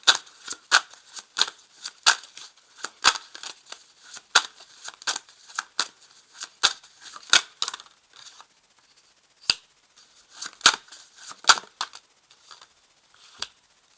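Rider-Waite tarot cards are shuffled by hand, a quick series of crisp riffling and slapping bursts, close and fairly loud, in uneven clusters with short pauses between them.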